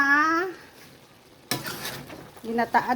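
Small crabs with string beans and squash cook in coconut milk in a pot, with a burst of bubbling and stirring that fades and returns, preceded by a short tone.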